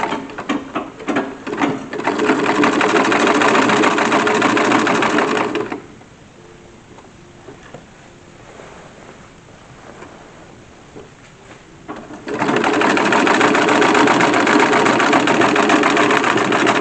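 A sewing machine stitches a silk facing onto the upper skirt of a wedding dress, running in a loud, close, steady whir for several seconds, pausing, then resuming.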